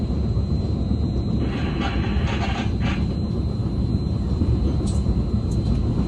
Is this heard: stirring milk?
no